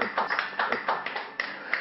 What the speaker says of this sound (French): S'il vous plaît, veuillez applaudir pour elle.